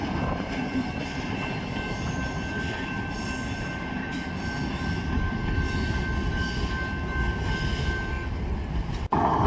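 A CSX freight train on the Grand Rapids subdivision, led by a KCS SD70ACE Thundercat locomotive, rumbles steadily past up close with a constant rail roar, faint wheel squeal and a sharp clunk near the end.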